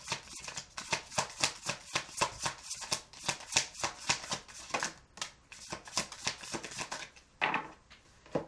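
Moonology Oracle cards being shuffled by hand, a fast run of crisp riffling bursts in a steady rhythm for most of the stretch, then a brief pause and a final fuller shuffle, close and alone with no voices.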